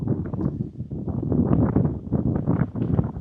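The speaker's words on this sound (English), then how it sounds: "as soon as I get out here, it gets real windy" Gusty wind buffets the microphone in low, rumbling bursts that rise and fall without a pause.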